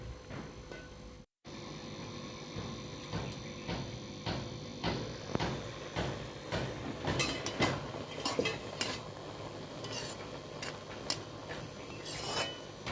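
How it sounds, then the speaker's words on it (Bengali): A spoon scrapes and clinks against a pot while watermelon pulao is stirred, with a lid handled near the start. The stirring comes as a busy run of close metallic taps and scrapes with no talking. "একটু খুলে একটু নাড়াচাড়া করে দিই আবারও ঢাকা দিয়ে দেবো"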